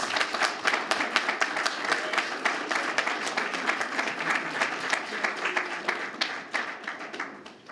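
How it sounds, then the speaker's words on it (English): A conference audience applauds with dense, sustained clapping for several seconds, fading slightly at the end, with no talking over it. "Let's give our staff a round of applause."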